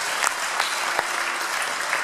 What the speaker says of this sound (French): On peut l'applaudir, parce qu'elle passe partout.